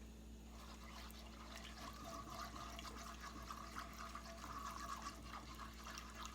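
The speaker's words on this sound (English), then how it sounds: "Now you add milk" Milk pours into a roux in a pan on a stove at medium-high heat, a quiet, continuous liquid splash and trickle against a low background hum.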